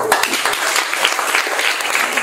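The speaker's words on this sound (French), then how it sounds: "ils méritent d'être applaudis aussi" A crowd applauds children at a Christmas taekwondo competition, with dense, steady clapping that fills the short stretch at an even loudness.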